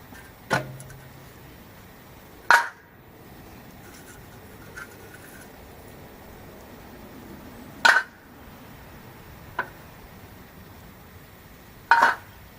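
Metal flavor bars lifted off a Weber gas grill give four sharp, isolated clanks spaced seconds apart over quiet room tone.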